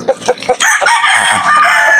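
Aseel chickens clucking and squawking close by in a yard, a few short calls at first and then a louder, sustained stretch of crowing-like cackles.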